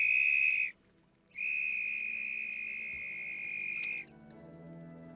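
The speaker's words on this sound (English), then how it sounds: "The whistle is 3 to 5 times louder than the human voice." Two loud, shrill whistle blasts, a short one followed by a longer sustained one, with a low hum underneath.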